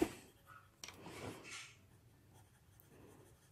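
A Polychromos colored pencil lightly shades on paper, making faint, soft scratchy strokes in short passes, quiet and close with a small knock near the start.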